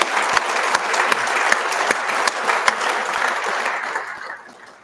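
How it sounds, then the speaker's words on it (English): Guests at a graduation dinner give the staff a warm round of applause, many hands clapping steadily with a few sharp standout claps, then fading gradually toward quiet. "So please, a round of applause to the staff."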